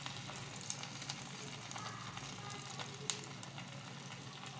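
Crushed cloves sizzling in hot ghee, a steady soft crackle and hiss with occasional sharper pops, close and quiet, no talking.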